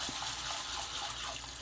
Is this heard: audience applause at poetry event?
no